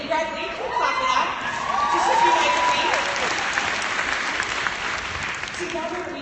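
A crowd at a gathering of queer women bursts into applause with scattered cheers and whoops, the clapping swelling midway and then tapering, with a few voices rising above it.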